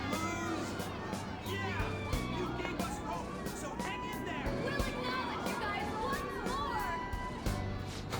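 Crowd voices from the Persona 5 video game form a dense, continuous babble of many people cheering and chattering, loud and sustained throughout.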